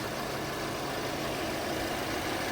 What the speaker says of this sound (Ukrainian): Моторчик працює з коробочкою ідеально.